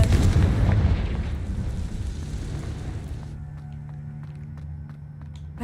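A Confringo fire spell explodes in the Hogwarts Legacy video game, a loud booming blast that rumbles and fades into a low lingering roar of game ambience.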